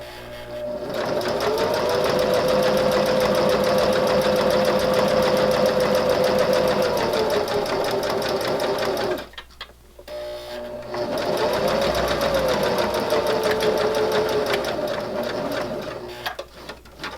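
A sewing machine stitches a fabric silverware pocket in a fast, steady whir close by. It stops briefly partway through while the needle stays down and the fabric is lifted and turned, then resumes.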